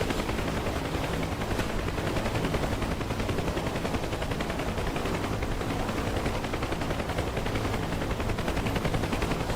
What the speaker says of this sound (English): Firing AAA at him now